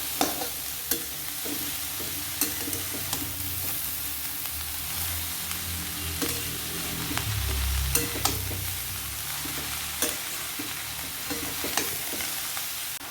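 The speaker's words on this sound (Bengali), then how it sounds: "ভালো করে নেড়ে ভালো করে ঢাকা দিয়ে দেবো" A spatula stirs cabbage curry in a pan, with steady sizzling frying and regular scraping strokes against the metal, close and moderately loud throughout.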